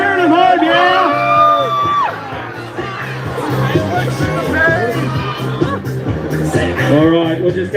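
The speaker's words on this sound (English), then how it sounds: "Let's start cheering them home, yeah?" A crowd at a wing-eating competition whoops and cheers loudly in continuous waves, with shouts and voices mixed into the noise, close and lively throughout.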